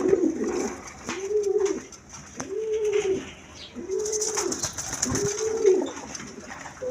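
Pigeons kept for sale coo in a regular rhythm of about five deep, rolling calls, close by and clear over faint background noise.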